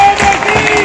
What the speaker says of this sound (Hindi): एक बार जरा उनके सम्मान में आपकी तालियां होनी चाहिए।